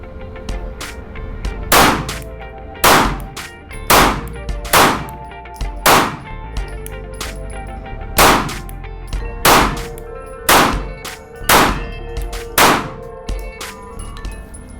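A Glock 48 pistol fires about a dozen sharp, loud shots at a steady, deliberate pace, each crack followed by a ringing metallic ping from steel targets.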